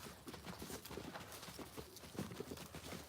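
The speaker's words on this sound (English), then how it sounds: "it is a horse. Very good horse." Horse hooves clip-clop on the ground while a horse is being worked, a faint steady patter of footfalls under broad noise, with no voices heard.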